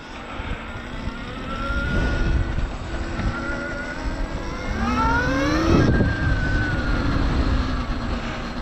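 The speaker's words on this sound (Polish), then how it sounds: "Zobaczmy jak się jeździ tym motorkiem." A Motopai M300 electric motorcycle (6 kW, 380 Nm) being ridden, its motor whine climbing in pitch through acceleration over a constant rush of wind and road noise, close and fairly loud, with no talking.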